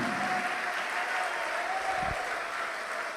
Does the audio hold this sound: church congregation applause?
yes